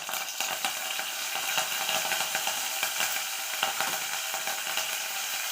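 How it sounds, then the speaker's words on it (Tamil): Cinnamon, cloves and stone flower frying in hot oil in a pan, giving a steady, close crackling sizzle with scattered sharper pops throughout, no talking. "அடுப்பில் எண்ணெய் ஊற்றி பட்டை கிராம்பு கல்பாசி இதெல்லாம் போட்டு காய்ச்சிக்கலாம்"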